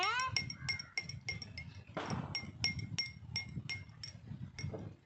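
Oil and water are stirred together in a glass for a children's science experiment, producing a quick series of about a dozen bright, close clinks as the utensil strikes the glass, with a brief scraping pause midway.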